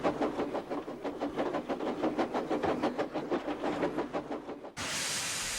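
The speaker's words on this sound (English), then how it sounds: "a whistle was heard, and Eagle arrived in the yard with the equipment train" Model electric train rolling into a yard with an equipment train, a rhythmic clickety-clack of wheels over rail joints repeating steadily at moderate loudness, cut off abruptly by a burst of broadband hiss at the end.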